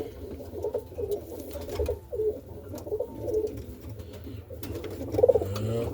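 Roller pigeons in a loft coo softly at night feeding time, repeated low throaty calls with light shuffling and patter, close and moderately quiet.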